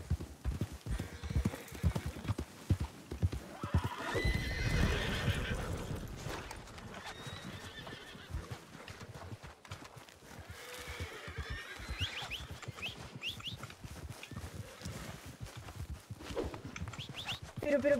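A horse from Red Dead Redemption 2 clops its hooves in steady rhythm and lets out a drawn-out neigh, close and moderately loud, with someone talking intermittently over it.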